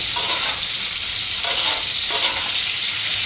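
Food sizzles steadily in a frying pan while a home cook prepares a meal, a dense continuous crackle with a few brief stirring scrapes, close and fairly loud with no talking.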